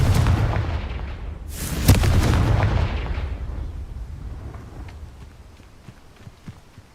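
The Confringo fire spell in Hogwarts Legacy bursts into a loud explosive boom about two seconds in, following an earlier rumbling blast, then fades into a long decaying rumble with scattered faint clicks.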